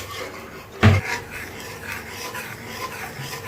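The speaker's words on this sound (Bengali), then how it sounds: "এখন সুন্দর করে মশলাটাকে কষিয়ে নিচ্ছি 1-2 মিনিট।" Masala of a Katla kalia fish curry is stirred and fried in a pan, giving a soft continuous sizzle and scraping, with one sharp clack of spoon against metal near the start.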